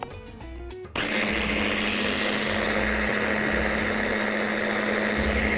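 A blender starts abruptly after a brief moment of quieter background and then runs at a steady loud whir, mixing a chicken marinade with olive oil, with no talking.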